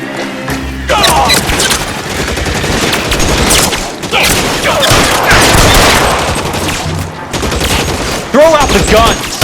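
A shootout in L.A. Noire brings rapid bursts of gunfire, with dense volleys and booming shots that go on almost without a break and keep up a loud, chaotic clatter, and voices cut in now and then.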